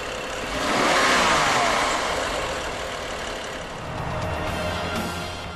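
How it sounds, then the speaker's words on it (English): A BMW 5 Series GT's all-new 3-liter inline six-cylinder diesel with 400 Newton-meters of torque, heard as a moderate engine drone that swells twice as it accelerates, with no talk over it. "an all-new 3-liter inline 6-cylinder engine with 400 Newton-meters of torque"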